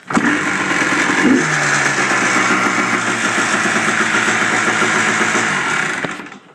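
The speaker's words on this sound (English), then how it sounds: "as you can see, it runs. Runs nice too. Revs pretty nicely." A 1999 Yamaha Blaster quad bike engine runs steadily at close range, a rough, continuous idle that rises slightly in pitch before cutting off at the end.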